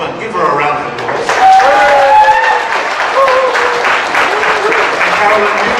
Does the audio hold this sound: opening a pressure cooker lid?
no